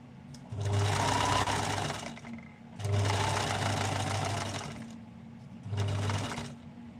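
Overlocker sewing machine stitching in three bursts, a fast, even mechanical chatter close by, the first two long and the last shorter, with quiet pauses between.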